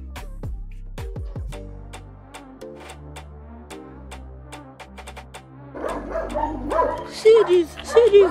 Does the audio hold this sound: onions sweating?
no